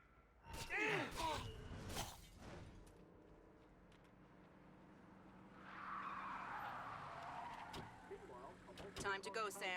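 Car in Splinter Cell: Conviction arriving to pick up the player, with a rising engine and tire skid swelling mid-scene amid game effects, while voices speak over it.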